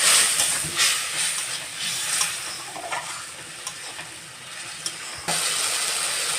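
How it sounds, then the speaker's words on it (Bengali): Ginger and garlic paste sizzling in a hot pan as water is added, a close hissing sizzle with stirring scrapes that fades somewhat, then surges again near the end, without talking. "যাতে না পুড়ে যায় আমি একটু জল দিয়ে নেবো এর মধ্যে।"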